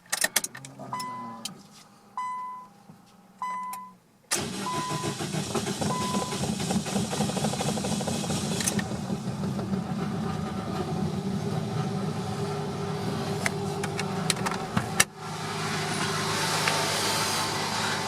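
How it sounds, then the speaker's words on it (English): A few electronic chimes and short clicks precede a Nissan Sentra engine cranking and catching after a fuel pump replacement, then running at a steady, loud idle with a brief dip near the end. "this is my first attempt to start the Nissan subsequent to installing the new fuel pump assembly."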